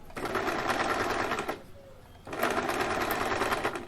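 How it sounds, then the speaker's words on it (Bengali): Sewing machine straight stitching a small doll's frock, two close, loud, rapid whirring runs separated by a brief pause. "এখানে একদম স্ট্রেট সেলাই করে নিতে হবে কোনো ফোল্ড হবে না"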